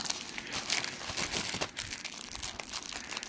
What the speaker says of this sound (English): I like this crinkly plastic.